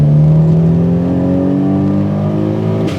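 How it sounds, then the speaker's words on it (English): Toyota Supra MK4 twin-turbo accelerating hard, its engine note climbing steadily in pitch as it pulls strongly, heard loud and close from inside the car with no talking over it. "Man, when that second turbo hits, it is quick."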